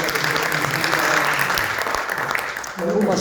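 A church congregation at a Sunday service claps together in sustained, dense applause that stays loud throughout and thins briefly near the end.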